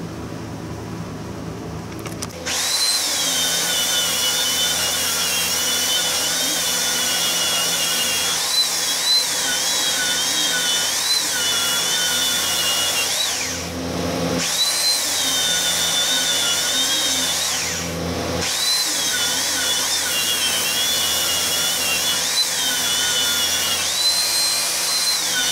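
A power tool grinds a bevel into a blade, a loud, steady whine that runs almost without a break, dipping briefly twice as the grinder lifts off the metal.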